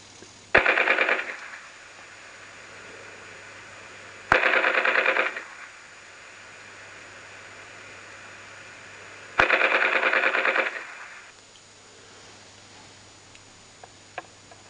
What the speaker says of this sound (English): A local railway club were building a World War II themed layout and wanted a functioning gun